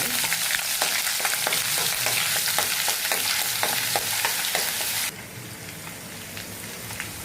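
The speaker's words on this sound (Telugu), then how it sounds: "ఇప్పుడు ఇందులోనే ఈ ఆయిల్లోనే 1 స్పూను అల్లం వెల్లుల్లి పేస్ట్ వేసుకుంటున్నానండి నేను." Ginger garlic paste sizzles in hot oil in a pan while pickle is being made, with a loud, dense, crackling spatter that runs continuously, then drops to a softer, quieter fry near the end.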